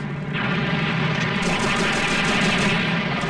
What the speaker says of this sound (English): I'm shooting what's basically 40-foot tall humans with missiles